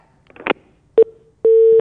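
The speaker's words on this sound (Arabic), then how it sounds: "فاطمه التليفون قطع" During a call-in segment on a TV talk show, a telephone line cuts off: a few short electronic beeps and clicks give way to a steady loud tone, with no voices.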